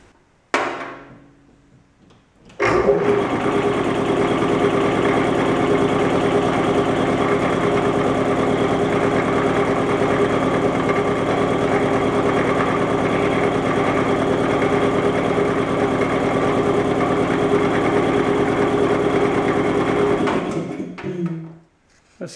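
A rebuilt air compressor with a replaced motor and pump starts up and runs steadily, a loud, continuous mechanical drone with a vibrating hum that holds for about twenty seconds before cutting off.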